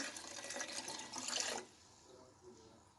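A cup of water pours into a mixture of egg yolk, lemon juice and flour for tripe soup. The steady splashing pour runs for about a second and a half, then stops, leaving a quiet room.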